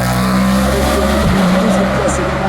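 A race car climbs a hill at the Saint-Gouéno hill climb, where historic and modern cars compete; its loud, steady engine roar fills the whole stretch while a commentator speaks over it.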